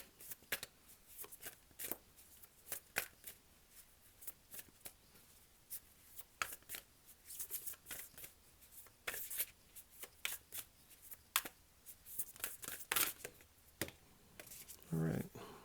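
Tarot cards are shuffled in quick, crisp riffling and tapping bursts, close and fairly quiet, repeating steadily for about fifteen seconds with no talking.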